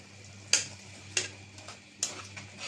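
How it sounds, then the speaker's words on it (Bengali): Prawns with turmeric, chili, salt and coriander powder being fried and stirred in a pan, a faint sizzle under a few sharp spoon taps against the pan, no talk. "তারপর কষিয়ে নেব ভালো করে চিংড়ি মাছটা কষানো হয়েছে"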